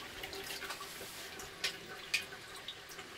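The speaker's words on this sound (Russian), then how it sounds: "Слышно капание. Это в бак" Water drips into the tank of a second-model PPSh-M2 sauna steam superheater, giving a few faint, sparse drops against a quiet background.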